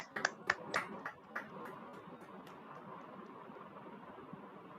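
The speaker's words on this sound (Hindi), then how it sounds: "और आज के ध्यान के लिए हम जोरदार ताली बजाएंगे।" A group of people clap loudly together at the close of a guided meditation session, a burst of sharp claps that quickly settles into a faint, steady background hiss.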